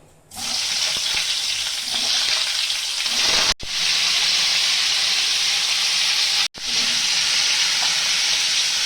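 Pointed gourd (potol) fries in hot white oil with a loud, dense, hissing sizzle that starts abruptly and holds steady, briefly cut twice by short drops.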